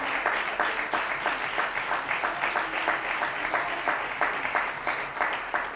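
Church congregation at a Spanish-language service applauding, clapping in a steady rhythmic unison pulse of roughly two beats per second, full and close, with light voices under it.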